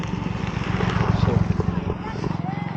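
A motorcycle engine drones steadily as the bike rides through a village during the monsoon, a low continuous hum running under a person talking throughout.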